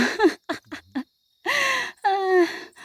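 Heavy breathing from a hiker climbing uphill on a mountain trail: short gasping breaths followed by longer strained exhalations, close and loud, in irregular bursts.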